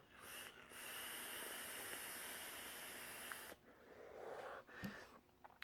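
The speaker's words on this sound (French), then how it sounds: "Belle production de vapeur." Broad, steady hiss of vapour from a single-coil, dual-wire e-cigarette exhale, loud and continuous for over three seconds before breaking off into quieter breathy puffs.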